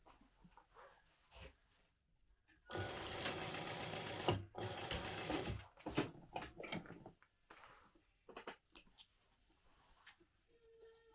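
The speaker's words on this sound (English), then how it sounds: "I'm just going to sew in about 1 inch on the, on each corner of this last piece" Sewing machine stitching the corners of a bag lining, a dense mechanical burst of stitching for about three seconds, then shorter intermittent runs and clicks with quiet gaps between.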